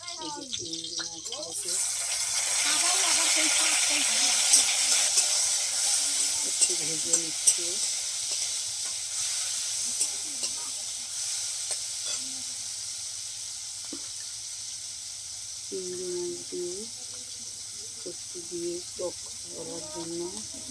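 Shrimp sautéing with onion, oil and turmeric in a pan fill the scene with a steady bright sizzle, occasional stirring scrapes coming through as a voice talks intermittently over it.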